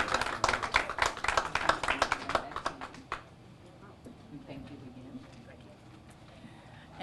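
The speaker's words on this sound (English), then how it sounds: "Let's give the Camden Youth Soccer Club a round of applause" A crowd gives a round of applause for the Camden Youth Soccer Club, with dense clapping for about three seconds before it quickly dies away to quiet room tone.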